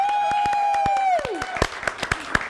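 A talk show studio audience claps as a guest is welcomed. A sustained tone fades out under the start, then sharp individual hand claps and scattered applause bursts follow, fairly close.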